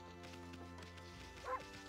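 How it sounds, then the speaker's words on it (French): A short dog bark from the video game Okami rises briefly over steady background music, a single yip near the end of the clip. "je peux aboyer!"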